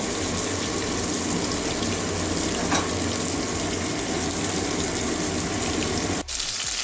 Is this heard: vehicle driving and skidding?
no